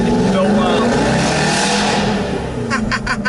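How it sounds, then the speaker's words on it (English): An Aston Martin V8 Vantage GT8 engine roars steadily while the car is driven, loud and sustained throughout, with what sounds like sharp crackles or gear-change pops near the end. "V8 Vantage GT8 is the best sounding car in the world."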